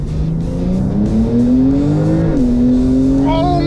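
A turbocharged LS-engined car, turbos already spooled, accelerates hard from a rolling start, its engine note climbing steadily and loud, dipping briefly at a gear change before rising again as a whine builds on top.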